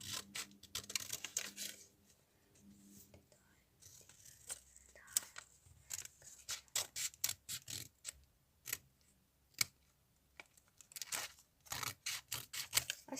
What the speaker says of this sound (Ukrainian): І тепер я вирізаю вушка My Melody